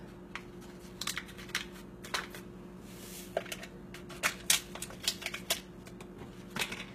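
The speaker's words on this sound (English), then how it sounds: "So I'm gonna open this one up and put it in my cup here." Crinkly tearing of a packet followed by a light granular pour, with scattered crisp rustles and taps over a steady low hum.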